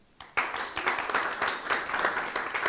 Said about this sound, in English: It's nice to feel this applause.